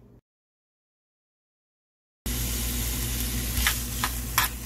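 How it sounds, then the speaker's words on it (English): Pancetta rendering in a cast iron pan, a steady close crackling sizzle that starts abruptly after silence, with a few sharper spatters near the end. "we are going to render down our pancetta. Get it nice and crispy."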